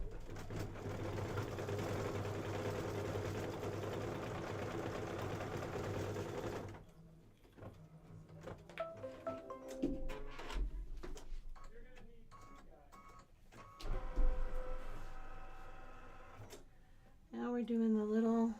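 Embroidery sewing machine stitching steadily for several seconds, a fast even mechanical hum that stops, followed by scattered clicks and someone talking.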